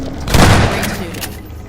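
Gunfire in the video game Half-Life 2: Episode One, a burst of booming shots with a loud thumping peak early on, then a sustained rumbling tail.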